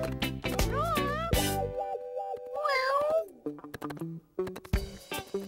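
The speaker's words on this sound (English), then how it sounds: "It's Ginger Cat." A cartoon cat meows in a few short, bright, musical mews, heard close, over playful children's cartoon music with plucky notes.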